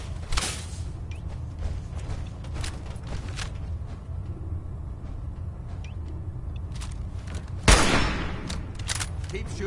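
Gunfire in the game Fallout 4, a few sharp shots including a loud close crack near the end, set against a rumbling background with voices talking.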